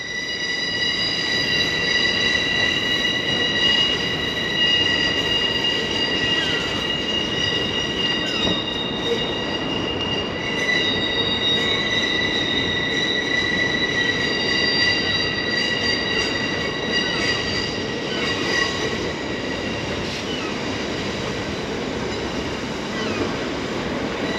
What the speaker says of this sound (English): That looks pretty awesome coming around that bend. You can hear it on my camera how loud that is.